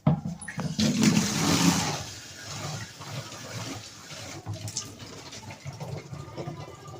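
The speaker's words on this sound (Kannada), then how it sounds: "ಈಗಿದ್ದು ನೀರು ತುಂಬ್ತೀವ್ರಿ." Water gushes into a 6-litre plastic bottle, a loud rushing splash at first that settles into a steadier, gurgling flow as it fills.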